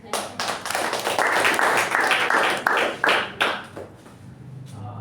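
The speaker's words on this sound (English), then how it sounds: "I heard an applause, then I entered." Applause from a meeting audience fills the room, dense and steady before fading, with a few voices rising at the tail.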